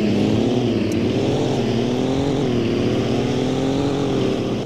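Lifted truck with a second-gen turbo manifold, engine droning steadily while driving in Greenville, loud and close with a slowly wavering pitch and no talk.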